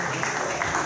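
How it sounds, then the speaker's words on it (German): Audience applause at a German bodybuilding newcomer championship during the Classic Physique class, a steady wash of clapping filling the hall for under a second. "Auch nochmal gesammelt für euch alle einen Applaus"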